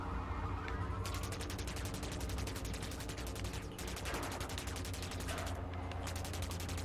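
Rapid gunfire rattles steadily in the shooter THOTH as the player fires at enemies, dense, fast bursts broken by brief pauses, loud and continuous over a low droning background.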